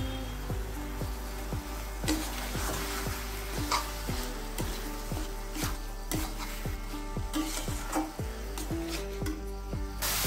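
Chicken stir-frying with soy sauce and vinegar in a pan, a steady sizzle broken by regular scraping and stirring strokes of a spatula, close and continuous with no talk.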